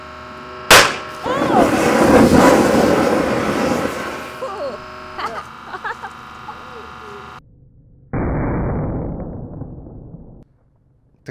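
A small lithium-ion battery cell crushed under a hydraulic press gives a sharp crack, then a loud roaring, hissing burst of venting fire that fades, followed by a second shorter loud rush before silence.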